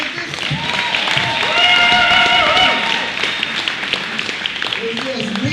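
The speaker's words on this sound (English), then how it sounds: "Can y'all clap for real?" Clapping and cheering from an audience at a poetry event, with a whooping, sustained cheer rising in the middle over steady applause before fading into scattered claps.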